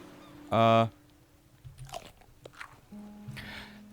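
A loud, wet chewing smack bursts right against the microphone during a Sunkenland game session, followed by quieter rustling and a few faint mouth noises and murmurs.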